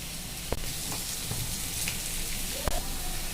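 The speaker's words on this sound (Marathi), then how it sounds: "तेल आपलं छानपैकी गरम झालेलं आहे आता मी कारलं फ्राय करते" Bitter gourd frying in hot oil in a kadai, making a steady close sizzle and hiss with a few sharp pops and clicks, and no talking.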